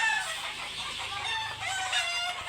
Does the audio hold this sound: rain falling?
no